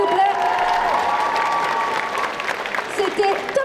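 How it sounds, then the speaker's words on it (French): Audience at a cosplay contest and catwalk at a geek convention applauding loudly, sustained clapping with a host's voice over it. "On applaudit très fort, s'il vous plaît."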